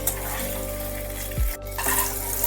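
Paneer cubes fry in mustard oil with a steady close sizzle and a low kitchen hum, broken midway by a brief stir or pan knock before the frying noise resumes.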